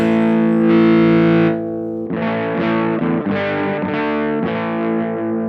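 Distorted electric guitar through a Supro Sahara amp with the tone control rolled fully down, giving a dark, muffled tone: a sustained chord followed by a run of choppy strummed chords, played alone.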